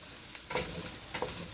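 Food crackles and sizzles in hot oil, with two brighter bursts of spitting as something is moved around the pan.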